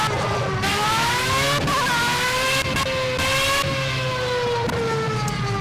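Formula A open-wheel race car engine in the Xbox One game Project CARS, revving high and shifting through gears with rising and falling whine, loud and close throughout with no talking.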